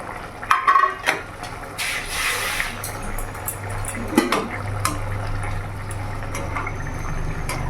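Fish curry gravy, a mustard-oil bata fish jhal, bubbling and simmering in a pan while fish pieces are dropped in one by one, with a steady low boil, brief splashy hiss bursts and a few soft clinks.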